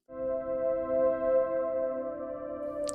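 A thinned synth chord progression with the low notes removed, leaving only high notes, sustains steadily as a bright, even layer for about three seconds, unaccompanied and without speech.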